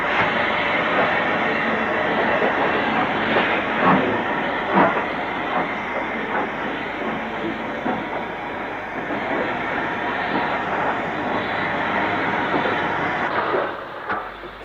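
LMS 8F steam locomotives on a shunting move at Northwich, one with a Fowler tender, give a continuous rumble of rolling stock with rhythmic wheel clatter and occasional clanks, fairly close and steady throughout.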